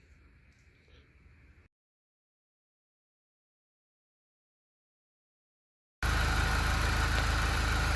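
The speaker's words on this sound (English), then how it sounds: "Alright, new injectors are in. It's running real good." A 2000s R53 Mini Cooper engine runs after new fuel injectors are fitted, with a faint hum at first, then silence, then a loud, steady close-up engine drone for the last two seconds.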